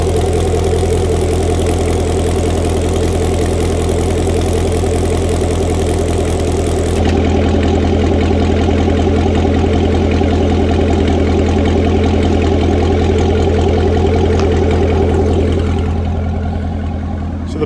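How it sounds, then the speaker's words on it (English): A C7 Corvette with an Akrapovic exhaust idles in sport mode with a deep, steady rumble and burble, loud and close. Its tone shifts partway through, then fades slightly near the end. "it has a really nice deep gurgle to it as far as the exhaust note goes"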